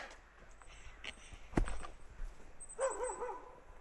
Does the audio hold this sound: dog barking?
yes